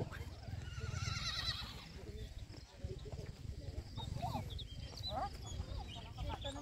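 A horse whinnies in the distance while people talk nearby, with a rooster and other farm animal sounds in the background, at Communal Ranch in Bukidnon.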